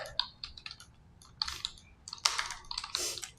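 Fingers type text on a computer keyboard in quick uneven bursts of crisp clicks, separated by short pauses, close up and fairly loud with no talking.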